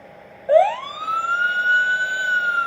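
A police car siren from a sitcom starts abruptly and rises into a sustained, steady wail that holds loud and clear, with no one talking over it.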